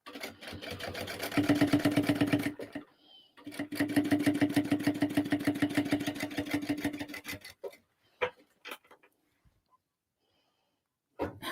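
A sewing machine back stitches over the seams of a crossbody bag, running in two steady bursts of rapid, even stitching with a short pause between them. A few faint clicks and taps follow before near silence.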